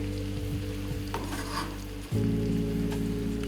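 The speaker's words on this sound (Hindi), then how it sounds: "इनको ट्रांसलूसेंट होने तक हमने इनको थोड़ा सा सॉटे करना है बटर में" Chopped onions sautéing in melted butter, giving a steady close sizzle with soft stirring scrapes and a brief clatter partway through, while a low hum runs underneath.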